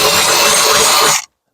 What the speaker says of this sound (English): I'm going to drill this hole